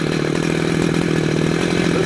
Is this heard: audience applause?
no